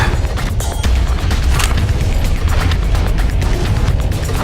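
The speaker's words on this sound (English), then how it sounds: "Man, guns are loud." Loud, dense gunfire from the video game Lost Planet 3, a continuous barrage of booming shots and crashing impacts filling the whole stretch with no pause.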